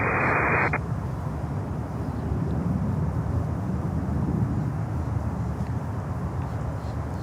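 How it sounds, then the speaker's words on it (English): A Kalitta Boeing 747 cargo jet lands on runway 9 at Miami airport, producing a steady, heavy roar of engine and rushing air that holds at a constant level throughout, heard from a distance with no talk. "747 coming in here on runway 9"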